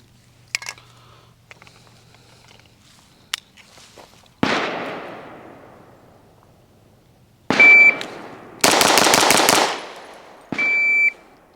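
A Bul Armory EDC Pro pistol fires on a range, with a few sharp, loud shots and bursts of fast rapid fire ringing out close by between quiet gaps and a couple of electronic beeps.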